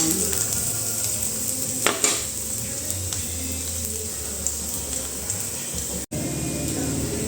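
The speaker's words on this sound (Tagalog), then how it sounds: "And now we will put the garlic. We will wait until golden brown." Garlic sizzles and fries in a hot pan for chicken feet, a loud continuous crackle with a few scrapes of a utensil stirring against the pan.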